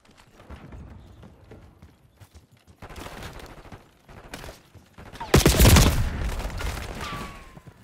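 Heavy gunfire bursts erupt in a Black Ops 6 Kill Order match, loud and dense in the latter half, with quieter scattered shots and movement before it and a short whine trailing off at the end.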